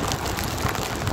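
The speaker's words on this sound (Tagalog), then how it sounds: "Medyo malakas po yung ulan" Heavy rain drumming on a car windshield during a drive, a dense, steady wash of close patter with no voices.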